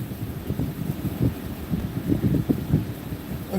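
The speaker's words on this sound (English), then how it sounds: "Look at that gust." A wind gust rumbles through snowy country near North Bend, Washington, with low, uneven buffeting against the microphone that pulses and swells for a few seconds. No voices.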